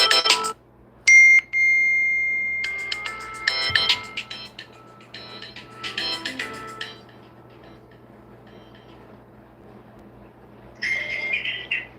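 A phone ringtone plays in repeated bright, chirpy electronic bursts with gaps between them, fairly close and alone over a low steady hum, as a call is placed to the phone.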